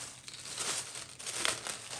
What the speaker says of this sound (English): So take a tissue paper